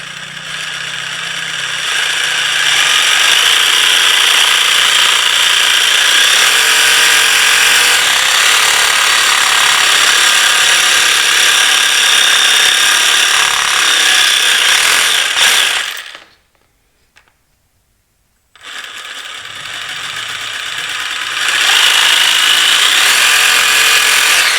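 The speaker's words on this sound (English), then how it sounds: "we got the old hacksaw out. Should work. Got the old Diablo blade in it, so should make short work of it" A hacksaw fitted with a Diablo blade cuts steadily through a part during a Polaris RMK snowmobile rail tip repair, its loud continuous rasping strokes broken by a brief pause before sawing resumes.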